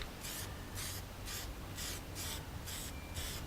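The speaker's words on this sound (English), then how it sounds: "get your primer, extra primer in this case. And just give a nice dust coating over everything" Aerosol can spraying a light dust coat of primer over a taped-up classic Mini wheel, about eight short hissing bursts in a steady rhythm with brief gaps between, close and fairly quiet.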